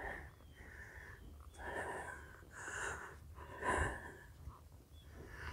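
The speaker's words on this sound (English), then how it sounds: "Let me catch my breath." Heavy, labored breathing from someone out of breath after exertion outdoors, with rough gasping inhales and exhales repeating unevenly at close range and one louder snorting breath near the end.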